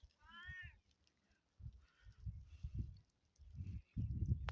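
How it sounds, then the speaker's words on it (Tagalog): Pet cats meowing indoors on a freezing snowy day: one clear rising meow near the start, then scattered softer mews among bumps and low rustling handling noise, fairly quiet overall. "Yan na yung mga pusa namin."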